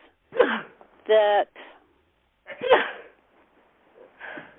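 A close, abrupt sneeze is followed by a second burst, with a few words spoken quietly around them.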